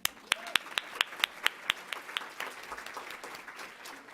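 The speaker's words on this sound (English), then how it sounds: "we're all just gonna give her a big old round of applause" Audience applause at a women entrepreneurs and changemakers event: a few distinct, fairly close hand claps ring out at a quick, regular pace, then thin into a softer, scattered patter that trails off.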